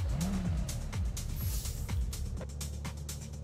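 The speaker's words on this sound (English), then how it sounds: "let's hear that cold start off" A car engine in the racing game Test Drive Unlimited Solar Crown fires up from cold, its revs swooping up and falling back before settling into a steady, close rumble, with no talking.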